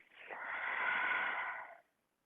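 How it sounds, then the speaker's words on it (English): Deep breath during a hatha yoga practice, a single long, close airy exhale that swells, holds for about a second and a half, then stops cleanly into silence. "Deep breaths."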